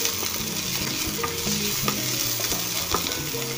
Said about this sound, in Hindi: इसे हम 2 से 3 मिनट के लिए भून लेंगे